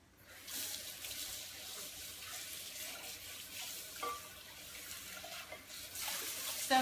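Running water from a kitchen faucet rinses food in a sink while making a cheesecake, a steady broadband hiss with small splashy variations, close and continuous throughout with no talking.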